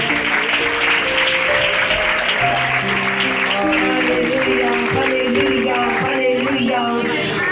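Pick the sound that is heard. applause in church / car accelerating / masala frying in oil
applause in church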